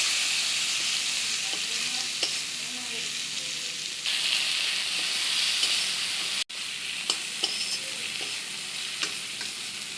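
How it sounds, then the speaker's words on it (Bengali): Chillies and spices sizzle steadily in hot oil while being sautéed for an egg and potato curry, a continuous close hiss broken by occasional stirring clicks and one brief dropout. "এবার একটু লঙ্কারগুলো দিয়ে দিচ্ছি যাতে সুন্দর কালার হয় মানে আমি একটু কষাবো সুন্দর করে"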